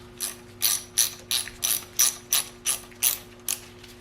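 A ratchet clicks in about ten even bursts while undoing a banjo fitting and bracket bolts on a Mercedes W109 6.3 engine during disassembly, close and crisp over a steady low hum, with no talk.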